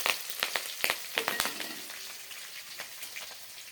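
Spices crackle and spit in hot oil for a Gujarati dhokla tempering as cumin, curry leaves and roasted and green chillies go in: sharp close pops cluster early, then thin into a steady soft sizzle.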